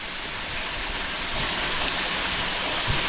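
A waterfall roaring inside a cave, heard from behind the falling water: a loud, dense, continuous rushing hiss that fills the space close by, with no voices.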